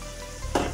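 Onions and peppers fry in a pan with a steady soft sizzle, then a louder burst of crackling as they hit the hot oil or get stirred.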